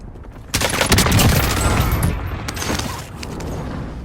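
M4A1 assault rifle firing in the video game Warzone, a loud, close burst of rapid automatic shots with sharp cracks and a ringing mechanical tail that fades into quieter background noise.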